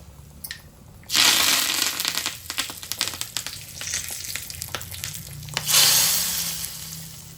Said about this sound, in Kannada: ಸೊ ಈಗ ಇದಕ್ಕೆ ಒಗ್ಗರಣೆ ಹಾಕ್ಕೊಳ್ತಾ ಇದ್ದೀನಿ.